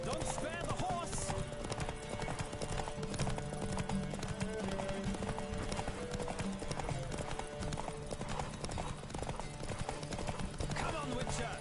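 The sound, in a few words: horse galloping in video game The Witcher 3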